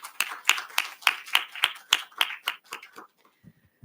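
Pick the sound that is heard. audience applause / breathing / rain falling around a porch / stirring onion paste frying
audience applause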